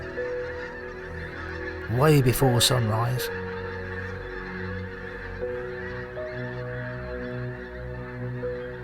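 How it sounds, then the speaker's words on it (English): Pink-footed geese flying in off an estuary before sunrise, a short burst of several loud overlapping honks that fades into a faint distant flock, with someone speaking briefly over it. "Pink-footed geese coming in off the estuary"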